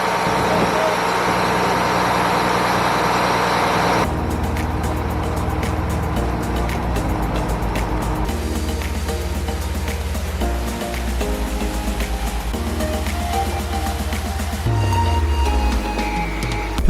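From the back of a slow boat in Laos, a loud engine drones low and continuously, shifting in tone a couple of times, with water and wind noise layered over the steady rumble.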